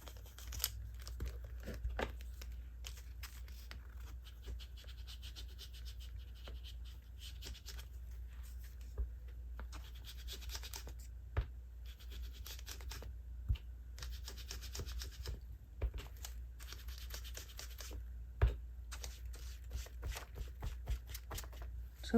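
A colored pencil in blueprint-sketch blue shades the edges of a paper Bible journaling page. Faint, close scratchy rubbing strokes continue throughout with brief pauses.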